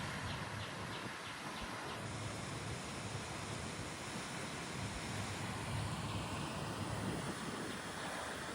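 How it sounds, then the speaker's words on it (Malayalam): Strong wind buffets the microphone in a continuous, roaring rush near a dam, a steady broadband blustering with no breaks. "ഇവിടെ എത്തുമ്പോൾ നല്ല കാറ്റ്"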